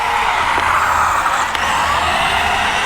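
An Eachine EC08 1/16-scale 4WD RC truck drives on dirt, a loud close continuous high whine of the electric motor with gravelly tire noise and brief skids.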